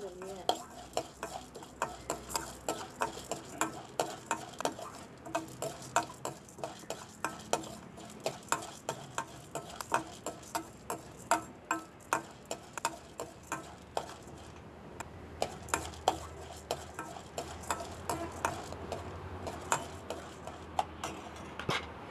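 Urad dal and dried red chillies dry-roast in a pan over a low flame, stirred with a spoon that ticks and scrapes against the metal in a quick, steady rhythm, close and moderately quiet, no voices.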